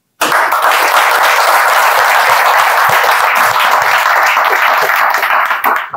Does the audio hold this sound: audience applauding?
yes